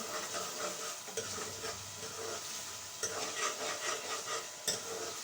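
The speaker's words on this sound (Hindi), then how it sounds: "मैं वैसे भून के मसाला बनाऊंगी" Masala being fried and stirred in a pan for a chicken curry, quiet steady sizzling broken by repeated scraping strokes of a spoon, close and with no voices.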